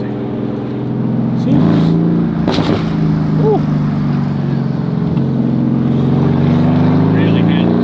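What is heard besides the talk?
Ferrari F50 straight-piped hypercar engine accelerating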